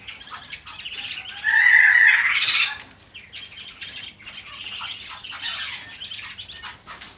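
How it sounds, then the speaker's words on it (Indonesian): Straw-headed bulbul (cucak rawa) singing in a bird kiosk, a bright, loud warbling phrase of about a second, followed by softer chirps and calls that continue in the background. "ini penampakan cucak rawanya ya"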